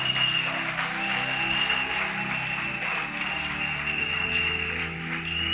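A church congregation applauds and cheers in a sustained, moderately loud wash of clapping with a faint steady tone running underneath.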